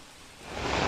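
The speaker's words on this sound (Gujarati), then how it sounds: "પવન સાથે વરસાદ આવતા વાતાવરણમાં ઠંડક પ્રસરી છે" A brief burst of monsoon rain in Navsari, Gujarat, swelling louder, a broad rushing hiss as gusty winds drive the heavy downpour, close and rising.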